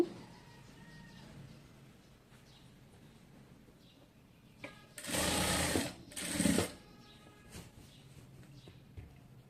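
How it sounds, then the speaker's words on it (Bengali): An electric sewing machine stitches a salwar pocket in two loud bursts, a longer run and then a shorter one, heard up close in a quiet room. "এভাবে উল্টিয়ে তারপরে হচ্ছে আমি সেলাইটা করব"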